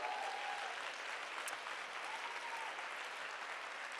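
Applause from an evening event audience, a steady patter of many hands clapping at moderate volume from a distance, with a brief faint whistle-like tone near the start.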